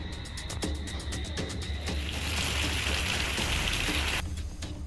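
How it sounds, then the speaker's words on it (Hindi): Heavy, continuous rain pours down steadily in Jhansi during flooding, a dense unbroken hiss with drops drumming on surfaces, loud and close throughout. "झांसी में लगातार भारी बारिश हो रही है।"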